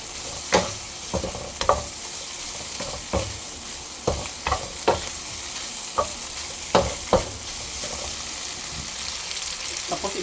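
Lemongrass, lime leaf and mushrooms sizzle in a pan for tom yum fried rice while a utensil stirs and scrapes in irregular knocks every half second to second over the steady frying hiss.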